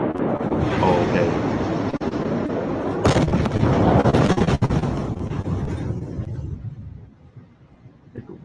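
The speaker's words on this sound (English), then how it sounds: "Now this right here is supposed to be a firework." Fireworks going off at a firework place, a sustained loud rumbling barrage with sharp blasts and crackle that fades toward the end, heard up close through wind-buffeted noise.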